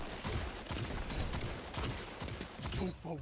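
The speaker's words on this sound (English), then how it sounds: "Let's go ahead and engage with this SMG." Rapid SMG bursts from Destiny 2 PvP combat, a dense wash of overlapping shots and game effects sounding steady and close, with some chatter beneath.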